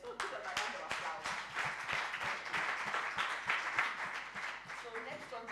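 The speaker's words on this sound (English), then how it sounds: "give them a round of applause" A room full of people applauds with dense, steady clapping at a group presentation summit, moderately close, with voices mixed in beneath it.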